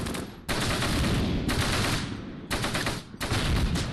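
Rapid machine-gun fire rattles in four loud, dense bursts with short gaps between them in Close Combat: Gateway to Caen, a WWII Normandy battle at Bas de Mouen.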